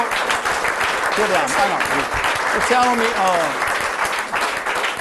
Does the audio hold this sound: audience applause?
yes